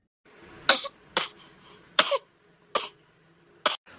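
A cartoon character gives five separate coughs in a row, each short and harsh, close by, with brief quiet gaps between them.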